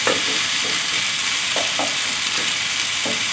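Cabbage and chicken stir-fry in sauce in a hot pan, a loud continuous hissing sizzle broken by a few stirring scrapes, heard close up with no talk.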